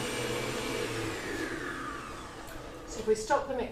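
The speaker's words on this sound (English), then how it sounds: "gave it a beat on the mixer" An electric food mixer whirs steadily while beating egg that has turned watery and curdled, a continuous motor hum that fades toward the end, followed by a few brief voice sounds.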